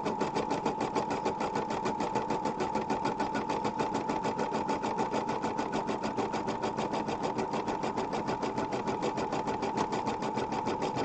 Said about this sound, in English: And now it's doing the sew out of the ribbon area.